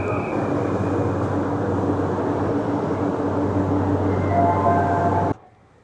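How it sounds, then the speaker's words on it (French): A Tokyo metro train rumbles loudly and continuously at a station platform, a low steady roar with faint higher squeals near the end before it cuts off abruptly. "je vais essayer de vous montrer un peu la gare, comment c'est le métro"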